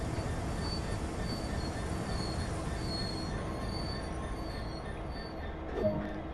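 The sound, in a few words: train drawing forward in video game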